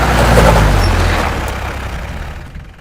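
A car braking to a halt, with a loud rush of engine and braking noise that fades steadily into near silence within a few seconds.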